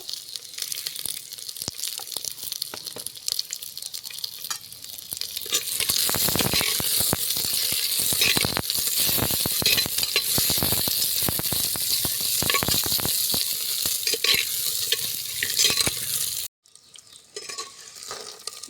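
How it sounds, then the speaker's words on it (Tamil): Green chillies sauté in hot oil with fenugreek and mustard seeds, giving a loud, dense, continuous sizzle and crackle up close, which cuts off abruptly near the end. "பச்சை மிளகாயெல்லாம் நல்லா வதங்கிடுச்சு பாருங்கள்"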